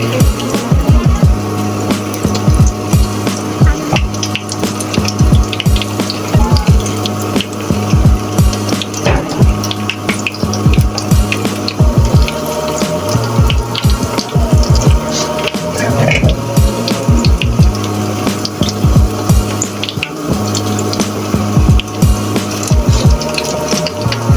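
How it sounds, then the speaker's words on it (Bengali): Potato and onion piyaju fritters deep-fry in oil with a dense, continuous bubbling crackle and scattered pops, loud and close with no talking. "বাদ বাকিটুকু আমি ভেজে নিচ্ছি।"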